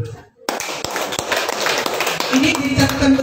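An audience breaks into applause after a health talk, building from scattered claps to a steady close patter with a voice speaking over it.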